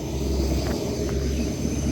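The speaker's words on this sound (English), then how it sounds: "Train going by" A passing train heard as a steady low rumble with a faint mechanical hum, moderately distant and continuous under quiet ambience, with no talking.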